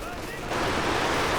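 An SU-76 artillery barrage in Company of Heroes 2 bursts into a dense, loud rumble of explosions partway through, swelling from a steady battlefield din into a sustained roar of blasts.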